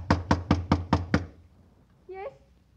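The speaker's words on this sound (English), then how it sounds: "waiting for a knock that had to come" Five sharp, evenly spaced knocks on a door in a radio crime drama, loud and close, followed by a brief silence and then the start of a voice.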